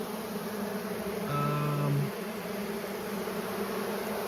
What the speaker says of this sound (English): We've got a lot of bees in here.